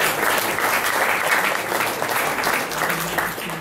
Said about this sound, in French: Parfait, on peut vous applaudir pour toute cette carrière.